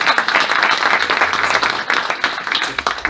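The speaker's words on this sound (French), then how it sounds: "on va les applaudir pour ce moment-là" Loud, dense applause from an audience at a presentation of modular relocatable housing, continuous rapid clapping filling the whole stretch with no voices.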